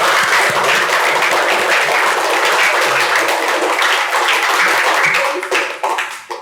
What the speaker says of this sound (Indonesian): Coba sekarang kita tepuk tangan untuk kita semua dulu.